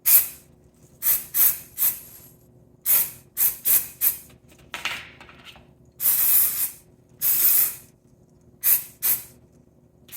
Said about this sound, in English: I'm gonna spray it on one of them and just see if it makes it more sparkly